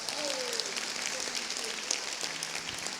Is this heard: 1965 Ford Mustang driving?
no